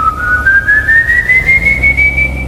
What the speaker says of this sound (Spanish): silbido maldito